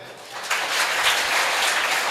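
Audience at a Tamil speaking event applauding for the next speaker: a dense, steady wash of clapping that swells after a quiet start and continues evenly, moderately distant.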